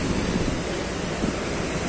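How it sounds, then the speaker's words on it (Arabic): High sea waves roll in on an open beach in Alexandria after a storm, a dense, steady roar of surf mixed with wind noise and no voices. "الامواج دايما بتكون عالية فيه"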